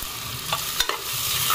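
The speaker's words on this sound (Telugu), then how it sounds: "ఉల్లిపాయలు, పచ్చిమిర్చి కూడా బాగా కలర్ వచ్చేంత వరకు వేయించుకోవాలి." Onions and green chillies frying in a pan while being stirred, a steady hiss with a few quick scraping strokes of the ladle, nearby and without voices.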